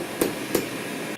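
A hammer strikes hot metal twice during forging, two sharp, clear impacts about a third of a second apart against a steady background hum.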